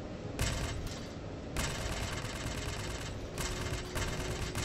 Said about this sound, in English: Let's try the Gatling gun.